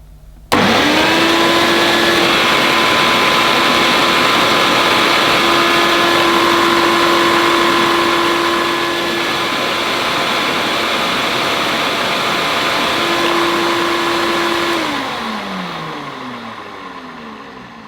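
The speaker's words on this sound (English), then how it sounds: "Let's see if we can see the power drive wheels moving around with the machine in this position." A Hoover U6003 Dial A Matic upright vacuum cleaner with power drive switches on abruptly and runs loud and steady with a high motor whine, dips briefly in pitch partway through, then winds down at the end.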